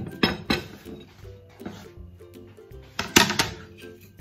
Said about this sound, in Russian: Хорошо все перемешиваем.